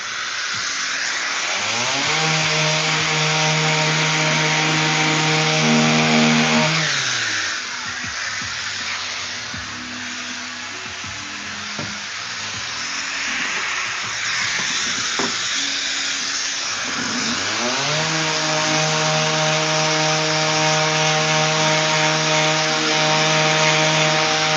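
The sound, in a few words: sanding knife blank with 80 grit sandpaper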